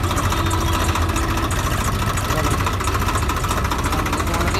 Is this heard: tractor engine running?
yes